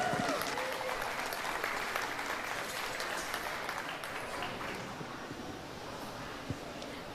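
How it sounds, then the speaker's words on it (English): Audience applause for eight exhibitors at a youth fair livestock show, a soft, diffuse spread of clapping in a large space that gradually thins out, with a sharp knock at the very end. "give a round of applause to these 8 exhibitors"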